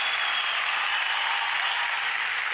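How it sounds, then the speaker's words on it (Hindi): A studio audience on a Hindi quiz show applauds a contestant in a dense, steady wash of clapping that holds at an even loudness throughout, with no talking over it. "तालियां बज जाए इनके लिए।"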